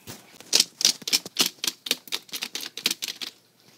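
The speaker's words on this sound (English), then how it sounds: "I type on my computer." Rapid clattery keystrokes on a computer keyboard, about a dozen quick taps in an uneven run, close and fairly soft, with no voices.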